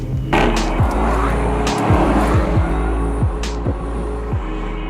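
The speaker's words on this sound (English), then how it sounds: "it sounds exactly how you would expect a Lamborghini to sound" The turbocharged engine of a 2018 Lamborghini Urus on the road, a loud, deep droning rumble heard from the cabin, with repeated quick pitch drops as gears shift, and no talk.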